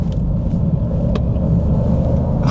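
An Alfa Romeo Stelvio's engine rumbles loudly on a racetrack during a heel-toe downshift, a steady low drone with a brief blip near the middle.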